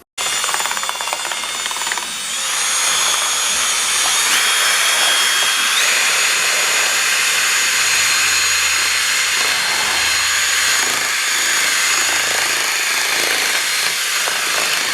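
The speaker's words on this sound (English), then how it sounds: "they're going to need a good whisk for about 2 to 3 minutes just to get them nice and frothy" Calf milk is whisked in buckets until frothy, making a loud, continuous, hissing power-whisk whir that runs steadily for the whole stretch without speech.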